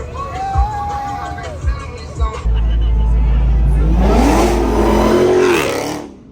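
Porsche 997 Turbo S with center-lock wheels pulls away at a car meet, a loud sustained engine roar that builds and rises in pitch before fading, preceded by crowd chatter and brief thumps.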